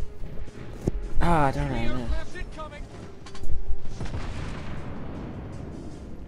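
De Grasse cruiser guns firing in World of Warships: booming salvos and impact crashes, one heavy boom standing out mid-clip, while someone talks and exclaims over the action.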